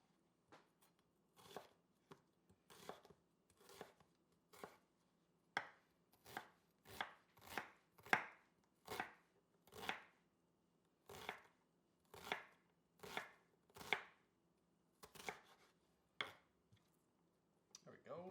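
A knife chops red onion on a board, a steady series of soft, crisp thuds at an uneven pace, fairly quiet and with no talk over it.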